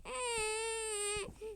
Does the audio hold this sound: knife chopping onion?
no